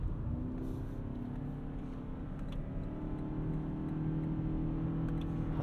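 A 2022 Lexus ES300 Hybrid driven hard, its engine and road noise holding a steady, loud drone throughout with a slight rising whir and no talking.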